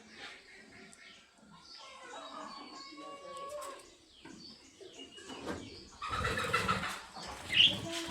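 Pigeons burst out of a loft, with a sudden flurry of wing flaps near the end following quieter shuffling and soft cooing, all fairly close.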